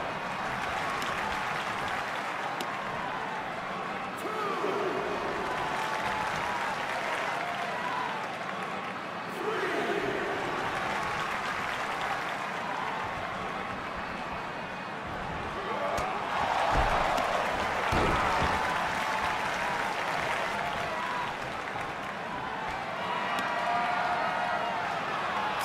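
Steady crowd applause and cheering in the wrestling video game WWE 2K23 fill the background throughout, a constant wash of clapping with occasional thuds and swells.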